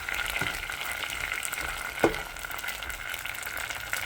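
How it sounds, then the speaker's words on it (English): Onions sauté in a pan as the base for a quick fish curry, a steady close sizzle running throughout with a couple of soft stirring knocks. "I'm just going to saute this until it's a little bit cooked."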